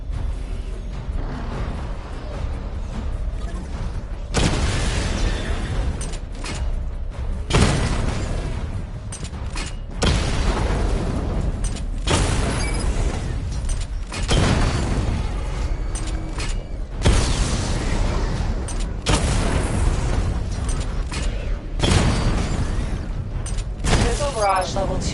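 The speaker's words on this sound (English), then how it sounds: "Charge the missile barrage to level 2 to destroy up to 4 targets at once." Missile barrage explosions from the Batman Arkham Knight video game, a run of loud broadband booming bursts repeating every few seconds over a dense rumbling game soundscape, with mechanical whirring between blasts.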